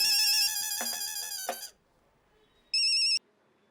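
A phone ringtone plays a repeated electronic tone twice, the first ring long and the second short after a pause, fairly close.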